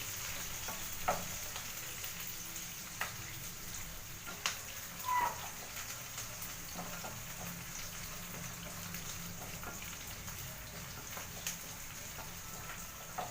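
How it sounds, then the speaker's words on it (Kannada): Food sizzles in a frying pan as a steady, even hiss with scattered small pops and crackles, without any talking. "ಚೆನ್ನಾಗಿ ಫ್ರೈ ಆಗಬೇಕು ಫ್ರೆಂಡ್ಸ್"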